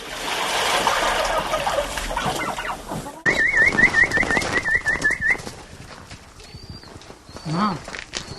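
Pigeons coo softly amid a busy outdoor bird chorus, with whistling chirps and background bustle; a low warbling coo rises near the end.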